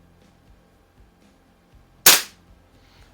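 A single sharp shot from a Benjamin 137 pump air pistol charged with six pumps, loud and close, cracking out once near the middle of an otherwise quiet stretch.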